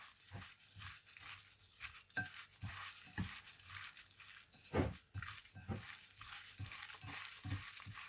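Fish being tossed and mixed by hand with roasted rice powder for Thai fermented fish, soft repeated wet squelching and rustling strokes, close and quiet.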